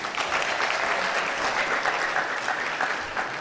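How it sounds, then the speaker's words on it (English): A seated audience at a university gathering at UniAbuja bursts into steady, dense applause, a sustained wash of clapping heard close and loud with no talk over it. "Give him a sounding round of applause."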